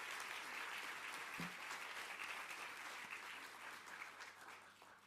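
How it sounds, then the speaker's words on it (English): Conference audience in a hall claps for a sustained round, a steady, dense patter of many hands at moderate distance that tapers gently toward the end. "I think we can give the governor and the commissioner another round of applause."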